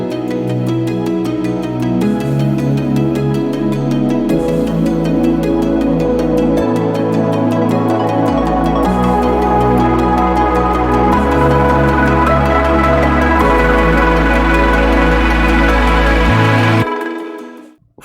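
The full mix of a melodic dubstep remix plays loud and dense: deep shifting bass, layered chords, plucks and percussion building steadily before cutting off near the end, with no voices over it.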